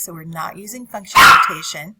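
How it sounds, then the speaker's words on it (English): A pet dog named Stinker lets out one sharp, loud bark indoors right after someone speaks, cutting in near the end of his sentence. "That's my dog Stinker."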